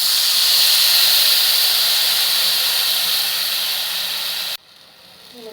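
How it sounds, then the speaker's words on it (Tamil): Tamarind water poured into a pan of fried onion and garlic for a fish kulambu sets off a loud, steady hissing sizzle that holds for over four seconds, then cuts off sharply, leaving faint background noise. "இப்போ நம்ம கரைச்சி வச்சுருக்க புளி ஊற்றிக்கலாங்க."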